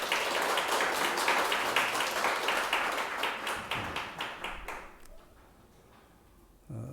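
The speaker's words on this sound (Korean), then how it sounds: "우리 하나님께 영광의 박수 올려드리겠습니다." A church congregation claps together during a Sunday worship service, the brisk applause fading out after a few seconds into near quiet, with a brief thump at the very end.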